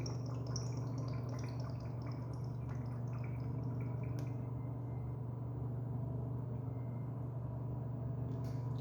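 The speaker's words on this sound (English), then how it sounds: "that's a urinal flush because it's not giving out a lot of water" A urinal fitted with a Sloan flush valve, just after a diaphragm replacement, flushes with a steady, close rush of water over a low, constant hum that holds evenly throughout.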